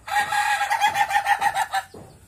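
Chickens clucking inside a coop on a farm, a steady run of close, loud, repeated clucks that break off briefly near the end, with no talking.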